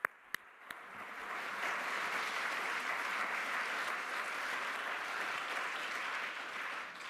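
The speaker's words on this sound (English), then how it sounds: "I would like to applaud the jury member" Applause for jury members at a Louis Pasteur bicentenary science prize ceremony: after a few sharp knocks, a broad wash of many people clapping swells in and holds steady, moderately distant and filling the room.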